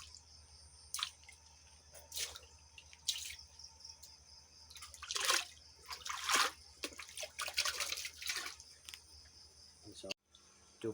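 Water is poured into a freshwater lobster tank in several irregular splashing bursts over a steady background drone of insects and a low hum.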